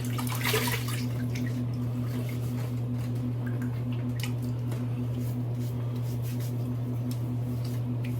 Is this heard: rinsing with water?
yes